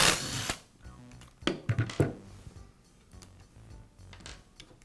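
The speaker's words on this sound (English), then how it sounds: "Now remove the cord clamp." Cord clamp coming off a Makita plunge router during a repair, heard as close, loose handling clatter: a loud burst at the start, then a cluster of sharp knocks and clicks, fading into faint fiddling noises.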